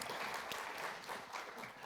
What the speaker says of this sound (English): Give him a round of applause for getting us going on the side opposite.